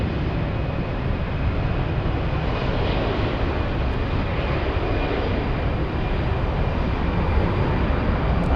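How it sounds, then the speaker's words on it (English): Airbus A350 airliner at Frankfurt Airport, a loud, steady broadband jet engine roar that holds without a break, as if the aircraft is close by. "That is the big A350"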